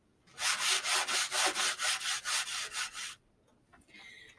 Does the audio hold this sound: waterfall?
no